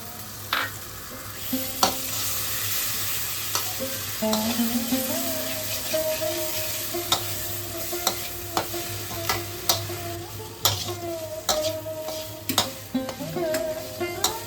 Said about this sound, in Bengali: এবার আমি টমেটো বাটাটা দিয়ে